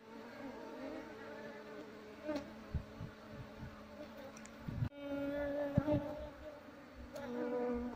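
A wild honeybee colony buzzes densely while its comb is being fitted into a wooden frame box for beekeeping. The swarm's hum is close and continuous, with occasional thumps and handling knocks.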